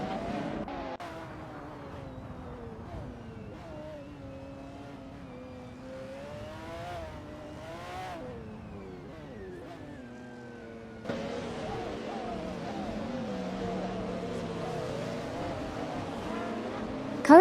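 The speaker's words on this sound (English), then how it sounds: "That's the current status of the racing cars driven by artificial intelligence in the simulator." AI-driven hypercars race around Road Atlanta in a racing simulator game, with engines whining and shifting pitch as cars rev and pass. The engine sound swells louder partway through and continues steadily to the end.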